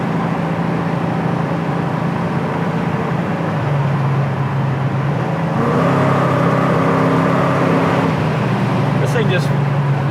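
A 1973 Plymouth Cuda with a Hemi engine cruises at about 70 mph near 3,400 RPM, its steady engine drone and road roar heard from inside the car, with people talking over it.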